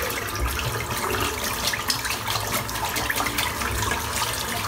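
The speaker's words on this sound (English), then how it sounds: "Just going to clean the brush out before all this soap starts sticking to the fibres" Running tap water splashes continuously as an abalone-handled shaving brush is rinsed of shaving cream, a close, steady hiss and spatter with no voices.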